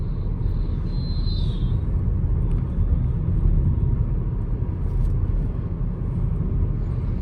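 Car on the road from India toward Janakpur, a steady low engine and road rumble heard from inside, continuous and even, with a brief high whine early on.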